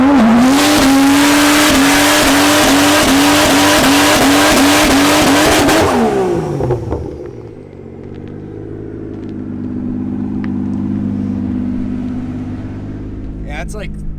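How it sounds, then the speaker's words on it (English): A 2JZ-swapped Mustang holds its launch-control rev limiter with a loud, rapid stuttering engine bark for about six seconds, then drops to a lower idle rumble as a voice talks over it. "this is on the launch control rev limiter."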